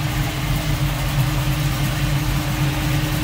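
A 1968 Chevrolet Camaro convertible's V8 with electronic ignition and an Edelbrock four-barrel carburetor idles close by, a steady low rumble with an even throb and no voices.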